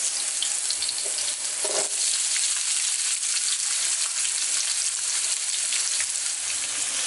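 Onions fry in a pan for stuffed aubergines, giving a continuous loud hissing sizzle with a brief stir or clatter near the start, close and steady throughout, with no talk.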